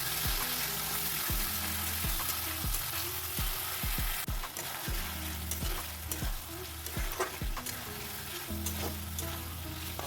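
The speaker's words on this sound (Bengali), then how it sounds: "সয়াবিন ভাজা হয়ে যাওয়ার পরে আমি কড়াইতে তেল দিয়ে আলুগুলো ছেড়ে দিয়েছিলাম" Potatoes and spice paste sizzle in hot oil in a wok for a vegetarian soybean and cauliflower curry, a loud, continuous crackling fry broken by rhythmic stirring scrapes, with a low hum beneath.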